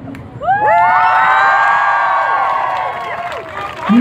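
A large crowd in Boston screams and cheers loudly all together, a sustained roar of many high voices with shrill whoops that swells quickly, holds for about three seconds, then fades.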